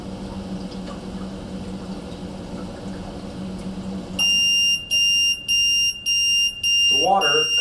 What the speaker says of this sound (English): The water causes the sensor to close, tripping the audible alarm.